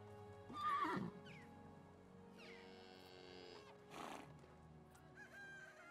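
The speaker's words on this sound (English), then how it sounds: "Got a baby horse and a baby donkey." A baby horse and a baby donkey in the stable of Medieval Dynasty call out over steady farm ambience, with a loud whinny early on and a longer braying call in the middle, close and moderately loud.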